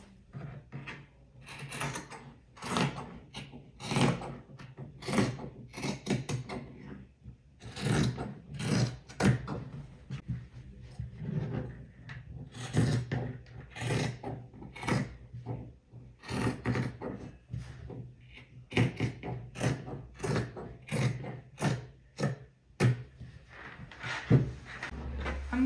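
Scissors cut through fabric for a cowl neck dress, a series of close, crisp snips and rustles repeating in irregular bursts with short pauses between them.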